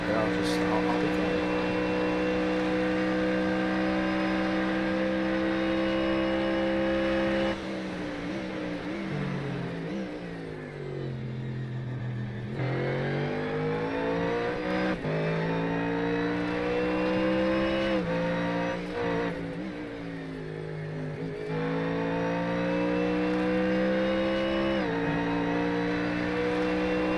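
A Ford Mustang GT3 V8 engine racing in iRacing drones loudly through repeated upshifts and downshifts, pitch rising and falling through corners, sustained with no voices.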